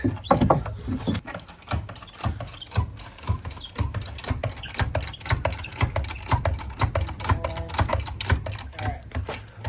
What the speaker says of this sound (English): Got the 4x4 up there on top of the hydraulic jack.